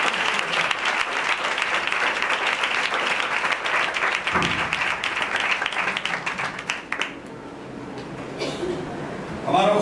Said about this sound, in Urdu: آئیں زوردار تالیاں